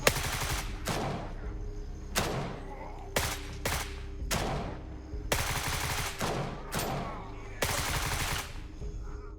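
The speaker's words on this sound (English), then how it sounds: "If the enemy starts shooting at you, don't panic. Just let them empty their magazine." Enemy gunfire rattles in Gray Zone Warfare, a tactical shooter: loud, sharp volleys of rapid shots repeat in bursts about every second, with brief gaps between magazines of fire.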